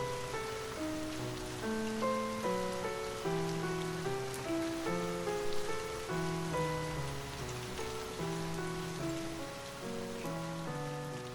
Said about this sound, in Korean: 빗소리가 잠을 깨웠습니다.